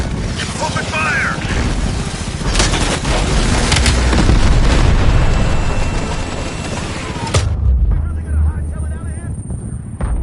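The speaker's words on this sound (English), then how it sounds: "Open fire!" Gunfire and explosions from Call of Duty: Cold War, a dense, loud barrage of booms and rattling shots with shouted voices over it, thinning to rumble near the end.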